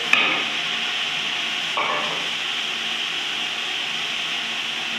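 Whole spices such as cinnamon pieces, cardamom, bay leaves and black pepper tipped into a pot for daal chawal, giving a steady close sizzle of frying with a brief rattle and scrape of stirring, no talk.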